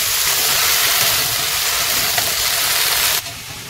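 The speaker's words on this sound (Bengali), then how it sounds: "কড়াইতে উচ্ছে, পেঁয়াজ, টমেটো ভেজে নিচ্ছি" Bitter gourd, onion and tomato fry in a wok with a loud, steady hiss and sizzle that holds for about three seconds before dropping sharply.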